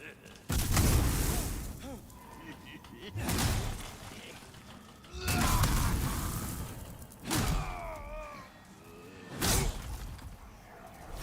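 Barrels exploding in the dark fantasy game Demon's Souls, with five heavy booming blasts spaced a couple of seconds apart and a voice talking between them.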